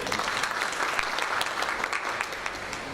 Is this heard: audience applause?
yes